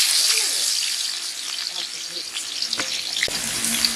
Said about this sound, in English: then I'll be pouring in my onions inside the pot